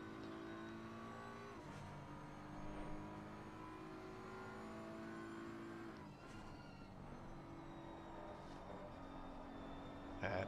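A BMW race car engine at Brands Hatch in a racing video game hums steadily and fairly faintly, with slight pitch shifts as it eases through corners and other cars faintly audible.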